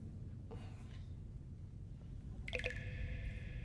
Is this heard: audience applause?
no